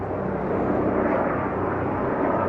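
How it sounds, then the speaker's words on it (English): A helicopter flies overhead above a city, a steady, fairly loud broadband engine and rotor roar that holds evenly throughout, with no voices. "Got a helicopter."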